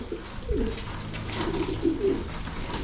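Young racing pigeons coo in a loft, with several soft, repeated low coos overlapping at close range against a faint background rustle.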